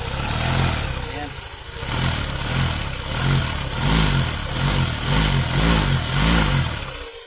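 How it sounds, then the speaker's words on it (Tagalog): A car engine at about 100,000 km on the odometer, with the oil cover off for an oil pump check, revs lightly in repeated rhythmic pulses, close and loud, with someone speaking over it. "I-rev natin konti, hindi natin gaano kalakas yung flow."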